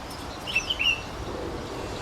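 A few brief, thin chirps from small birds ring out near the middle, with quiet background noise around them, where African Citrils and streaky seedeaters are feeding on berries.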